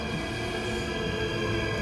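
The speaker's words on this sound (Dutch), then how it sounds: "kijk, de trein is er" A train pulling into a station at night, a steady broad rumble of wheels and rail noise close by, continuous for the whole moment with no voices over it.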